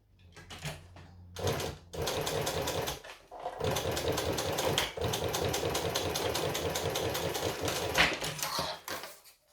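A sewing machine top stitching a pouch runs in steady rapid bursts of close mechanical needle chatter, pausing briefly between runs, with no talking.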